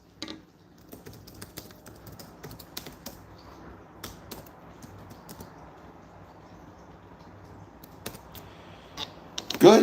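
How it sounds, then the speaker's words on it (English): Keys on a computer keyboard are tapped in soft, irregular bursts through a quiet room, with a louder flurry of clicks right at the end. "I could just open up a Word document and start typing"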